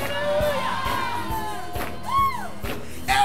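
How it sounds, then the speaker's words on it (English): A church congregation in a Fresno sanctuary shouts and cheers during praise, with high whoops and rising voices over a steady crowd roar and a few sharp bursts. "Come on, clap your hands and shout hallelujah."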